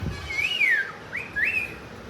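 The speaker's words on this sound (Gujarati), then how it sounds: "કોને સીટી મારો" A person whistles two clear sliding notes, each rising then falling, with a short pause between them, close and moderately loud over faint background noise.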